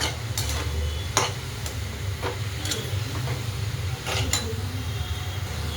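Moong dal is stirred into cabbage with green chilies in a pan, giving soft scraping and occasional sharp clinks of a utensil against the pan over a low steady cooking hiss.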